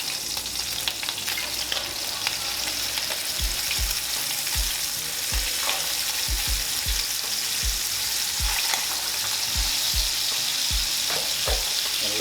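Hamburger patties fry in a pan with a steady, close hiss and crackle of fat, while scattered low knocks and bumps of the pan sound under the sizzle, and no one speaks.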